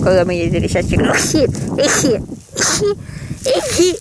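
A woman's sneeze rings out amid casual Russian conversation in a village house, one short burst breaking through steady talk, close and fairly loud.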